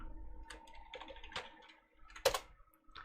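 Quiet, close computer keyboard typing: a short run of light, irregular key clicks with one sharper tap near the end, no talking.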